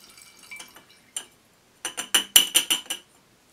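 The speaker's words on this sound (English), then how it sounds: "To a round bottom flask, I add 30 milliliters of azeotropic concentrated ethanol." Liquid ethanol is poured into a glass round bottom flask in a lab, giving faint early trickles, then a cluster of bright glassy clinks and splashes close by, with no talking.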